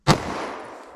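A single sharp gunshot from a .40 S&W pistol fired into ballistic gel behind four layers of denim, a loud close crack with a short decaying tail.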